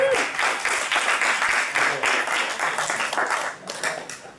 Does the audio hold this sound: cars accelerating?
no